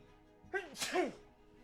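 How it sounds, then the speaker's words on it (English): A single close, sharp sneeze with a quick intake of breath before it, loud and sudden against a quiet background. "Sorry, I have to sneeze."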